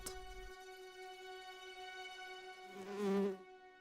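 A single bee buzzing near flowers in a British garden, a steady droning hum that swells louder and wavers briefly toward the end, then fades.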